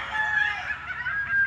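Chickens at a farm where they are sold, heard as a continuous, fairly loud mix of clucking and crowing fowl nearby, with no talking.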